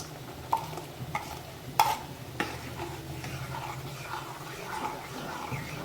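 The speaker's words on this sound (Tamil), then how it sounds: "தேங்காய் ஊற்றிட்டு தாளிக்க வேண்டியதுதான்" Spices crackle and sizzle in hot oil for tempering a chicken dish, with a few sharp pops and clicks scattered over a soft, steady frying hiss.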